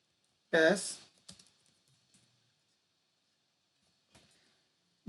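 Narration typed into Tally accounting software on a computer keyboard: one dense burst of keystrokes, then a few scattered isolated taps separated by long quiet gaps.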